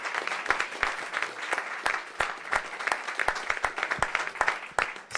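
Applause after the final presentation at a Bitcoin hackathon, a moderate crowd clapping with distinct, sharp individual claps standing out from the dense wash, steady and fairly close throughout.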